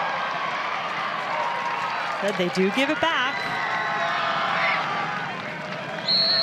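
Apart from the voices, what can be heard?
stadium crowd at college women's soccer match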